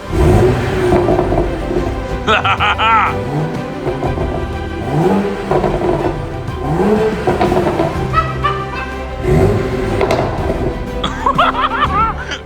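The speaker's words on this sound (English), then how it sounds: "Just give them a loud exhaust that pops and bangs" Tuned BMW 335i with a loud aftermarket exhaust revving repeatedly, sharp rising and falling engine blips in a rhythmic series, close and loud, with people laughing over it.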